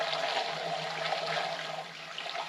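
Steady rushing pour of water into the open radiator of a Caterpillar D4 tractor, continuous and fairly loud, close by with no voices.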